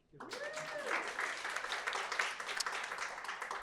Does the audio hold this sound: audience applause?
yes